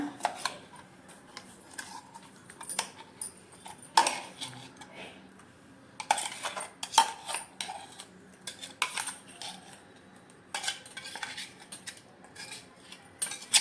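Mint chutney is scraped out of a blender jar into a bowl, with a series of separate metallic clinks and scrapes in small clusters against quiet pauses.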